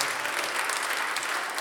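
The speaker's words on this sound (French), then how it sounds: "Je vais vous demander un tonnerre d'applaudissements pour lui." Audience applause inside the caves of Arcy during a concert, a steady dense wash of clapping at fairly close range, continuous and even throughout with no voices over it.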